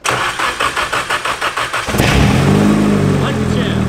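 A Nissan S15 engine cranks with a rapid, even starter-motor chug for about two seconds, then fires and catches, settling into a loud, steady idle close by.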